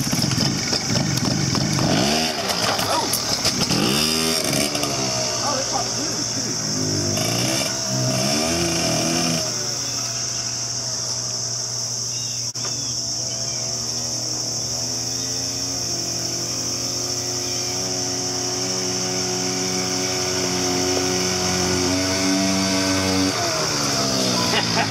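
Kong Powersports Screamer 49cc scooter with a Minarelli engine on a test ride, its small two-stroke engine buzzing steadily and revving up and down throughout, loud and close with no talk.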